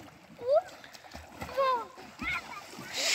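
Three children jump into water and splash, with a few splashes under an excited adult voice speaking over them outdoors.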